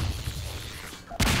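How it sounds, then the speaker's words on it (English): A grenade explodes in Half-Life 2 Episode 1: a sudden loud, broad blast that lands near the end after a stretch of rumbling game noise. "Grenade!"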